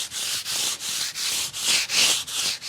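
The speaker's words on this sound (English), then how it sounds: "you may use a sanding block that's attached to a pole. We don't have to sand too heavy here." Rhythmic back-and-forth scraping of a sanding block on a wood floor, about ten even strokes close by, with no voices.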